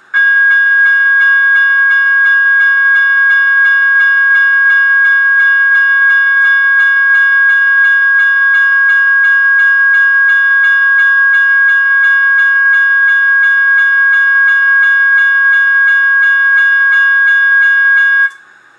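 An electronic Type 1 bell tone rings steadily at full volume for about eighteen seconds, a bright, sustained chime with stacked harmonic tones that cuts off abruptly at the end, with no voices over it.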